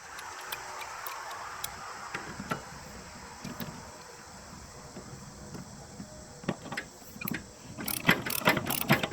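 A ratchet wrench tightens a mower blade spindle nut, giving rapid, close clicking pawl ratchets in short bursts with small pauses, growing louder and busier toward the end.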